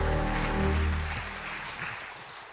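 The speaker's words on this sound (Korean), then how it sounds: "우리 구원의 하나님께 박수의 영광을 돌립니다" A church congregation claps together at a Korean service, a soft, continuous wash of many hands heard at a distance, with low sustained musical tones underneath at first that fade away.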